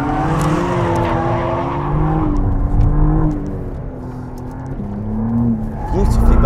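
A McLaren Artura supercar driven hard through corners, its engine droning and rising and falling in pitch with throttle changes, loud and close, while someone talks over it throughout.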